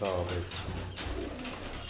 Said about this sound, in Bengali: সব কবুতরগুলো আমার প্রায় একই কালারের